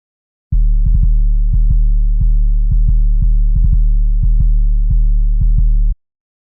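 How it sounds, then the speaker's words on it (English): A deep, sustained 808 bass in a BandLab beat booms for several seconds with loud, steady sub-bass. Faint ticking percussion hits recur unevenly over it before it cuts off cleanly. "Hold on, you have to hear the 808"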